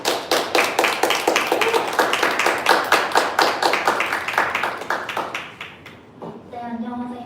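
Congregation members at a young adults' church service clap together in a brisk, rhythmic unison beat, loud and close, slowing and fading out near the end before a voice begins to speak.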